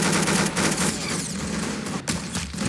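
Dense bursts of gunfire in the video game Arsenal, rapid overlapping shots filling the whole stretch at steady loudness with a sharp pop near the end.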